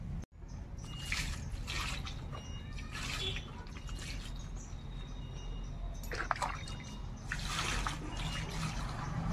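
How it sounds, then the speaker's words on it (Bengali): Fish rinsed under water in a rural kitchen: running and dripping water with intermittent splashes and sloshing bursts, close by, plus faint background bird calls. "মাছগুলোকে আমি এখন সুন্দর করে ধুয়ে নেব।"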